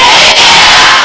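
A school assembly crowd of students shouts "yeah" in unison, one loud, dense, sustained roar of many voices close by, held for about a second.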